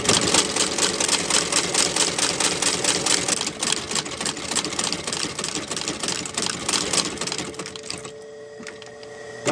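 Industrial sewing machine stitching thick lineman boot leather with Technora thread, a fast, loud, continuous mechanical clatter with rapid rhythmic needle strokes that slows and thins near the end as the material thickens.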